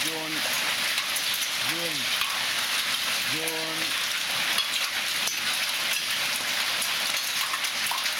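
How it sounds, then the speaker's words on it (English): Dense, steady patter of hard pellets striking surfaces, like hail or icy rain, with brief bits of a voice over it. "It's raining ice rain."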